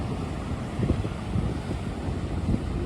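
Strong wind buffets the microphone on an empty September beach, a steady rushing roar with low gusting thumps and possible surf underneath, no voices.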